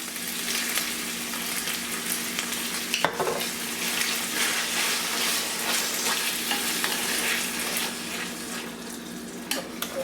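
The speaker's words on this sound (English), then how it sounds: "This is my sauce. It's a roasted garlic sauce" A roasted garlic sauce for one-pot bolognese pasta cooks in a pot with a dense, continuous sizzle and bubbling hiss, and a couple of sharp utensil knocks sound against the pot.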